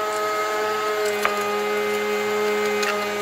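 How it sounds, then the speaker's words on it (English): A meat grinder grinds chuck roast for Italian meatballs, with a steady motor whine and a constant mechanical hum, close and continuous, broken by a single brief knock. "I want a little more texture to the meatballs as I'm grinding that chuck roast"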